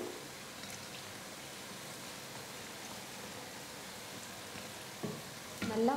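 Idli-batter bondas deep-frying in oil give a steady, even sizzle that runs unbroken throughout, with a few louder clinks and crackles near the end.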